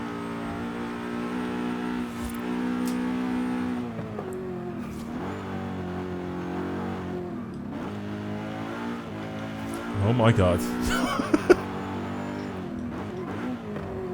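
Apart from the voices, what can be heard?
racing car engine revving in a video game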